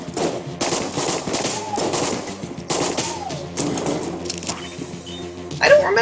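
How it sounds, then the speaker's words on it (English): Rapid gunfire from a Colt 1851 revolver in the video game Enter the Gungeon, a dense stream of loud clattering shots with game effects under a voice talking. "I don't remember this weapon double-tapping like that."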